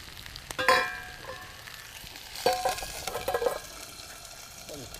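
Bacon-wrapped food tied with twine sizzling in a pan at a camp cookout, a soft steady fry with a few clanks of cookware, fairly quiet and close.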